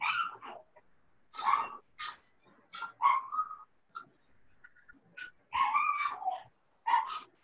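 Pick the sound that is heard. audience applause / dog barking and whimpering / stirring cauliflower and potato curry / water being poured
dog barking and whimpering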